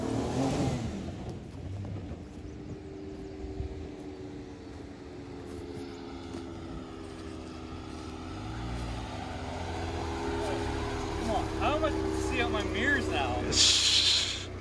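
A Dodge 4x4 engine revs and drones loudly while doing donuts in mud, rising and falling with a steady harmonic whine, with people talking over it.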